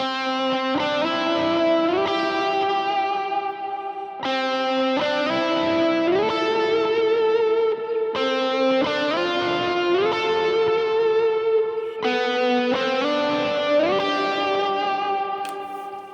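Distorted electric guitar run through effects and reverb plays repeating four-bar phrases of worship-style chord tones with passing tones sliding between them, loud and sustained with no talking.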